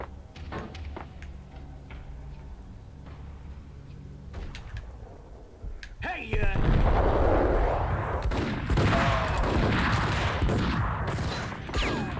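Shotgun blasts in the video game Max Payne, a few scattered sharp reports at first, then heavy booming shots with echoing impacts and clatter, loud and close.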